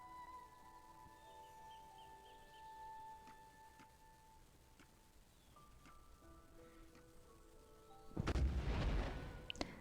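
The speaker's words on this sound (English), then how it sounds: "That's usually the mark that the cannon is aiming at Khan." A sudden deep cannon boom bursts out near the end after quiet tonal game sounds in Black Desert Online's Khan guild boss fight, with a rumbling noisy tail.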